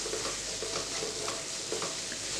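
A marinated mixture stirred and mixed in a pan, with a steady soft sizzle and frying hiss under faint, regular scraping strokes, close and continuous with no voices.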